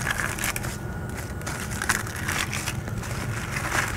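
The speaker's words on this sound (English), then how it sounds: "when you peel the husk back" Fresh corn husk being peeled back from an ear of corn for Mexican street corn, giving a steady crackling, tearing rustle that runs close and continuous throughout with no talk.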